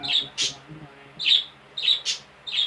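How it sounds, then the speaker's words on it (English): Pet birds indoors chirp in sharp, high, repeated tweets, several quick bursts close to the microphone with short gaps between them, while a person talks faintly underneath. "My birds are going crazy, don't mind them."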